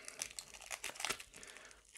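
Plastic packaging crinkles and tears in quick close bursts as a newly arrived laptop processor for an HP Pavilion G7 is unwrapped, soft and alone with no voices.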